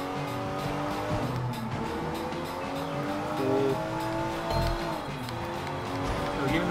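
A car speeds along in the Sleeping Dogs video game, its engine droning steadily while tires squeal briefly, with some talk mixed in throughout.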